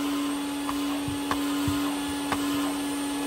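A Vax 121 vacuum cleaner runs steadily with a loud, constant motor whine and hum, close by, with a few faint clicks and knocks over the drone and no talk.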